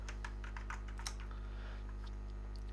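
Typing on a computer keyboard while entering an account name in Tally Prime accounting software, a quick irregular run of soft key clicks that fades out, heard over a steady electrical hum.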